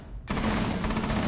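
Automatic gunfire in the video game Rainbow Six Siege bursts in suddenly after a brief quiet, a dense rapid volley that stays loud to the end with no talking.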